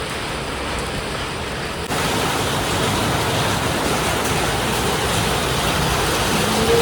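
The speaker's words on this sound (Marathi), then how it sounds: "आता पाऊस आहे खूप जास्त, म्हणून आम्ही थांबलोय" Heavy rain in a Konkan village, a dense steady roar of close downpour that grows slightly louder after a couple of seconds and keeps going without a break.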